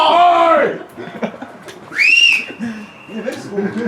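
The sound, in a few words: referee whistle at a football match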